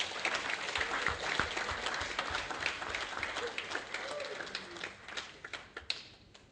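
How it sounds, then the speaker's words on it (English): Audience applause at a center's event honoring a doctor's team, scattered and moderately distant, continuous clapping that thins toward the end. "audience to applaud them again for that."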